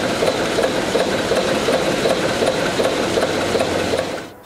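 A slow-running MWM RH 348 SU ship engine of 580 hp, aboard the vessel Rigel, chugs in a steady repeating rhythm close by, a dense mechanical clatter that fades at the very end.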